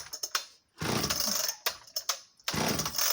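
An 85cc Partner R35 vintage chainsaw, started from freezing cold, gives a few sharp pull-start rasps, then catches in loud bursts of two-stroke engine roar that cut off and fire again in an uneven, sputtering pattern.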